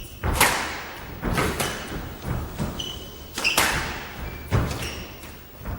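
Squash ball hits echo through a rally in the 1997 British Open final, a steady series of sharp thuds and cracks off racquets and walls, with faint squeaks of shoes between shots.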